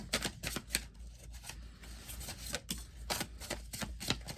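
Oracle cards are shuffled by hand in a quiet room, a series of soft, rapid riffling and flicking bursts repeating in uneven clusters, close and fairly faint, with no talk over them.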